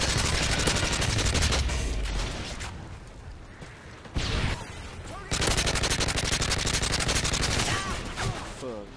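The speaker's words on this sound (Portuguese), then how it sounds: "Tanta tiro, tanta tiro. É tiros atrás de tiro." Dense automatic gunfire and rapid bursts from the video game Call of Duty: Modern Warfare 3, loud and near-continuous with a brief lull midway, mixed with game effects and faint voices.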